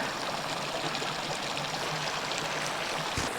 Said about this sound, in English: I really love the sound of the water flowing.